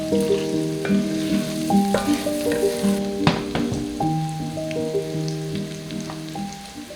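Cabbage caramelizing in a pan with a continuous close crackle and sizzle, a few utensil clanks near the middle, and a sustained musical tone running underneath, with no speech.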